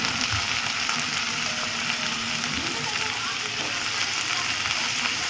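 Broad beans (chikkudukaya) sizzle in a hot pan, a steady close frying hiss with some soft stirring, alone without talk.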